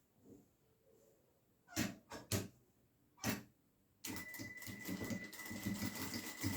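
A sewing machine stitches a small pocket onto a crossbody bag's lining. A few short separate clicks and thumps come first, then a steady close whirring run of stitching.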